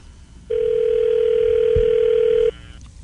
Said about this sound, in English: All right, so dial the phone up.